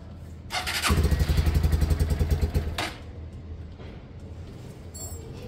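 A Lexmoto Michigan 125cc motorcycle engine cranks loudly and close up for about two seconds, a rapid pulsing chug that does not settle into an idle, then cuts off and leaves quiet background.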